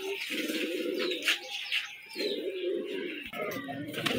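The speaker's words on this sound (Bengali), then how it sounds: "কবুতরগুলো খাচ্ছে।" Giribaz pigeons feeding in Rajshahi, giving repeated low throaty coos close by, with soft pecking and rustling between the calls.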